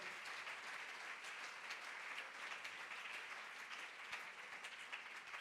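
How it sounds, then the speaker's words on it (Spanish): A church congregation applauds the Lord during a sermon, a continuous, faint wash of many hands clapping at a distance, steady throughout with no clear individual claps standing out. "Aplauda al Señor, hermano."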